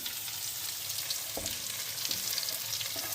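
Onions frying in oil in a pan, a steady close sizzle with a couple of soft stirring knocks, no voices over it.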